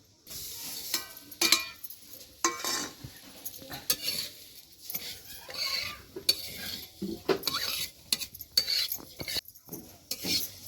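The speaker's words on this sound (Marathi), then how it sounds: "आता तुपात शेवाळ्या भाजून घ्यायच्या" Semolina vermicelli roasting in ghee while being stirred, with dry scraping and clattering of a spoon against the pan in uneven bursts and a faint sizzle underneath, close up and steady for about ten seconds.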